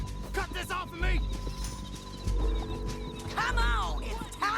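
A horse whinnies loudly in Red Dead Redemption 2 while hooves clip-clop steadily, with a second neigh near the end, game dialogue and music underneath.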